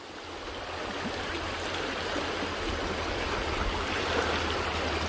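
A rushing mountain stream flowing over rocks makes a steady, full-band wash of water noise that holds constant throughout, with no voices.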